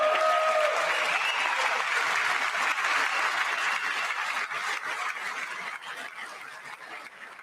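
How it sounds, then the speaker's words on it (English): Audience applause in the chamber at a State of the Union address, sustained clapping from a large crowd that gradually fades toward the end. "I wasn't sure if anybody even on this side was going to applaud for that."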